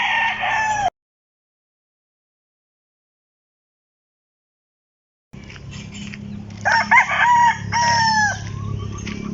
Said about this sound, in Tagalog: Damis ng alagang manok, guys, oh.